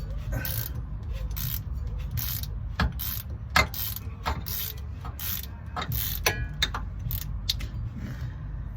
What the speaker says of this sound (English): So we're just gonna put our ratchet in there and loosen that up.